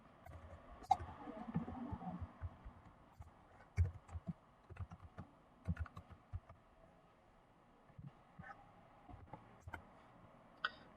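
HTML tags are typed on a computer keyboard in quiet, close, irregular clusters of light key clicks with short pauses between bursts and no talk.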